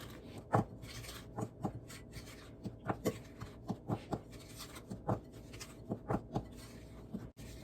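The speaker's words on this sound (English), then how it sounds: "we're gonna do 360, mix, cut, and fold" Carrot cake batter with grated carrots being folded by hand: a dozen or so soft, rhythmic scraping strokes, quiet and close, with no talking.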